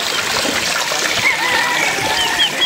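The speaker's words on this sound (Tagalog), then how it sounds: "May falls na maliit" A small waterfall at a game farm near Bacolod–Silay pours steadily, a continuous near splashing, trickling rush with brief bird-like chirps over it.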